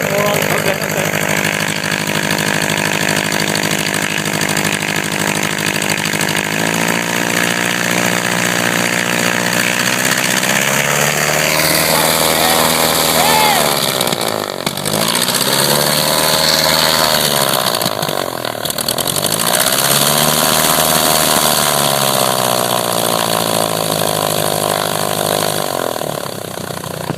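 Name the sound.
Cessna 150 aircraft engine running with idle not set right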